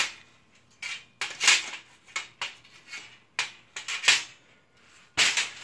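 Steel slats on a plasma cutting table are flipped over, giving a series of sharp metallic clanks and clatters that come in irregular bursts over several seconds, close by, with no talk.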